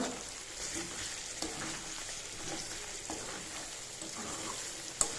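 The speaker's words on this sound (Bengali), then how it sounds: "মিট মশলা দিয়ে দিলাম, একটু নাড়াচাড়া করে নেব।" Mutton coated in meat masala sizzles faintly in a pan for mutton kosha, with quiet stirring scrapes and a sharp click near the end.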